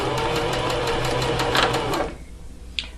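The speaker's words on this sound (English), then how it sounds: "I'm going to back stitch again." A sewing machine back stitching through denim runs in a steady rapid rhythmic whir for about two seconds, then stops, leaving a quiet pause and one short click near the end.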